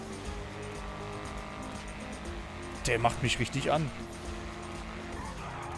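Car engine revving with some tire noise in the game GTA Online, sitting under someone talking loudly over it, with a brief louder burst about midway.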